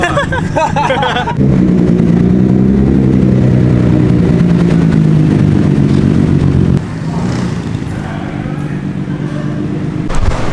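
Nissan Skyline R32 engine with blown turbos running at a steady, loud, rough idle close by, with a brief rev at the start and a drop in level partway through, voices faintly underneath.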